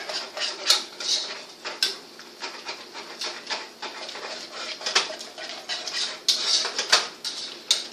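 Salt being mixed into mashed sweet potatoes in a bowl, a run of soft, wet, irregular scraping and squishing strokes, close and moderately quiet, with no talking.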